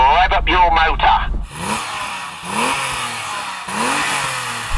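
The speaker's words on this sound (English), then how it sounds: "so go on then Tony, rev up your motor." BMW M5 engine revving in repeated bursts, each a rising roar that drops back between blips, loud and close, after a brief opening of other noise.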